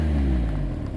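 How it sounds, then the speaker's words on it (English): A Mazda MX5 2.0 160PS convertible's engine revs just after start-up, a deep, close, throaty rumble that swells briefly and then settles toward idle. "they actually made the car, sort of programmed the car to sound like this when you start it up"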